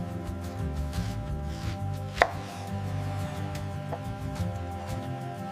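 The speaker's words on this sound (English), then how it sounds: "Cutting the sweet peaches." Knife slicing fresh peaches into small cubes for a tropical fruit yogurt dessert, one sharp crisp cut standing out over steady background hum, with a fainter second cut later.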